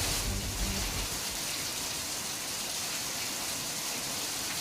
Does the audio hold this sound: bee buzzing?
no